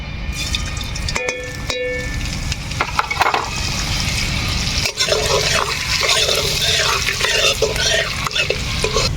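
Chopped ginger sizzles loudly in hot white cooking oil, a close, bubbling hiss broken by sharp clicks and scrapes of stirring in the pan.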